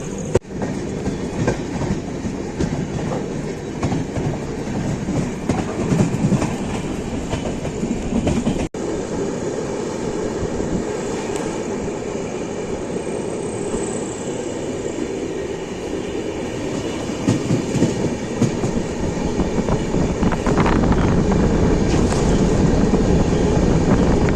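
The Shivamogga–Chennai weekly express runs along the tracks close by near Birur, a continuous rumble with clickety-clack of wheels over rail joints that grows louder toward the end.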